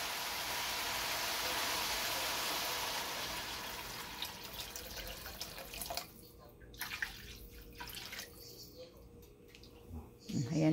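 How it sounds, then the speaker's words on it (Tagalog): Water poured from a tap or container into a cooking pan holding sautéed garlic, onion and ground beef for pansit chowmein, a steady rushing stream that tapers into scattered drips and clinks, with voices talking underneath. "Lagyan niya ng tubig."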